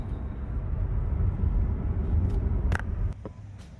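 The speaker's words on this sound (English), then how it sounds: "I'm just driving the car home" The Project Aero car rolls along on the drive home, a steady low road and engine rumble from inside the cabin with a few sharp clicks near the end as the drone drops off.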